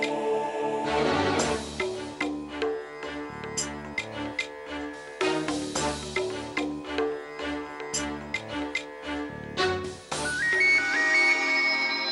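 A melodic phone ringtone plays continuously, bright and repetitive, fairly loud and up close with no talking over it.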